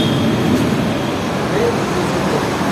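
A metro train rumbles steadily at Malakpet metro station, a continuous low drone with muffled voices faintly mixed in.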